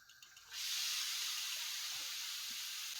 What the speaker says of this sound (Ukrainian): гріємо сковорідку і викладаємо грибочки на суху сковорідку, щоб випарувалася водичка